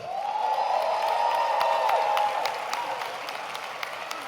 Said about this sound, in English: Y'all give a round of applause for Miss Gloria J. Williams